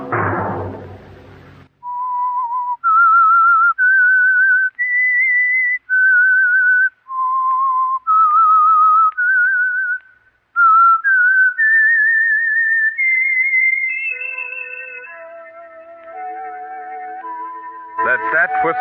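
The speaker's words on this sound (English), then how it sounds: "Let that whistle be your signal from the Whistler each Sunday night at the same time." A whistled theme tune for The Whistler radio mystery show, a clear, loud solo melody of sustained notes that steps up and down, with a brief burst of orchestral sound at the start and end.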